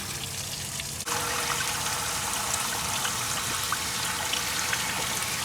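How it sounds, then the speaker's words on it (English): Water gushes steadily from the radiator hoses of a Toyota Celica during a cooling system flush, a continuous loud pouring and splashing that starts abruptly and runs on without talk. "we're getting clean water coming out of the hoses now"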